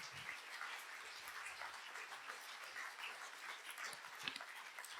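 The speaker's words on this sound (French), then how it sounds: "J'aimerais entendre un grand applaudissement pour le Seigneur qui tient ses promesses." A church congregation at a worship service applauds for the Lord, a continuous spread of clapping from many hands that sounds somewhat distant and soft but steady throughout.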